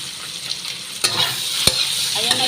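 Long eggplant being stirred as it fries in a pan with bird's eye chili, a steady sizzle broken by a few sharp scraping clacks of the utensil against the pan, close and fairly loud with no talking.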